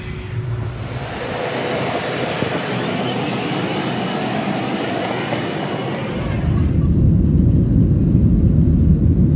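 A jet airliner's engines roar steadily from inside the cabin, a broad loud whoosh that swells into a deeper, heavier rumble as thrust builds for takeoff.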